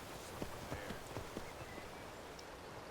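Hooves of a horse in the video game Skyrim clip-clop in a light, irregular walking rhythm, faint and close, over a steady hiss of game ambience without talking.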